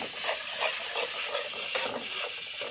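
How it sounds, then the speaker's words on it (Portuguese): Water boiling in a pot on a wood-fired stove, a steady loud hiss with bubbling and faint crackle throughout, no voices. "Ali a aguinha tá ali fervendo."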